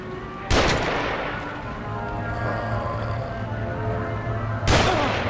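Sniper rifle fire in The Evil Within booms out in two loud, separated shots about four seconds apart, each followed by a lingering rumble.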